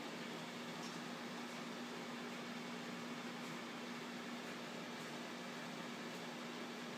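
A heater blows warm air steadily across freshly made wooden railroad ties to dry and cure them, a constant near fan-like whoosh with a faint steady hum and no break throughout.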